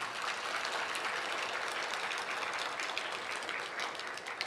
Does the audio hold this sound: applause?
yes